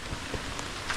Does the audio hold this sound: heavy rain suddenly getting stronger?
yes